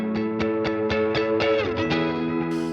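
An electric guitar on a single-coil neck pickup, played through a Sonicake Matribox II Pro with vibrato, compressor, delay and reverb, picks a quick run of evenly spaced clean notes that ring on and overlap into a sustained wash.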